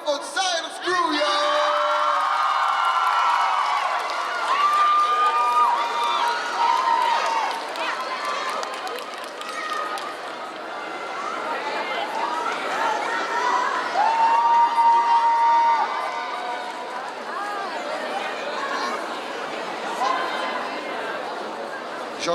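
A crowd at a K-pop dance contest cheers and whoops loudly for the second-place dance team, with sustained shouting and whistles throughout and voices mixed in the din.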